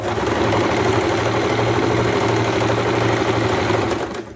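A sewing machine stitches petticoat panels together in one loud, steady, close whir of rapid needle strokes lasting about four seconds before stopping.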